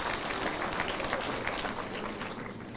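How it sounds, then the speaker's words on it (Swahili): An audience claps for a county assembly member introduced at a gathering in Kiambu, a steady wash of applause holding at an even level throughout with no voices on top. "Tumpigie makofi."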